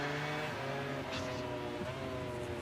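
A MotoGP racing motorcycle engine screams steadily at Circuit de Barcelona-Catalunya, a loud, continuous high-revving whine with a brief pitch drop as it brakes into a corner, heard alone without talk.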